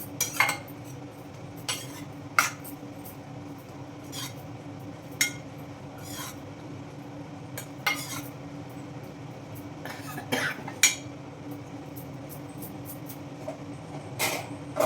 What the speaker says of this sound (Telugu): అలా కలిపేసుకోండి చక్కగా